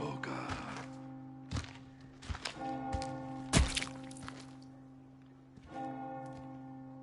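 A church bell tolls in the Resident Evil 4 Remake village, several loud, resonant strikes that ring out and decay over one another, with occasional dull thumps and no talk.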